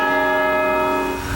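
A large cathedral church bell rings with a sustained, loud metallic tone and shimmering overtones, heard alone and slowly fading toward the end.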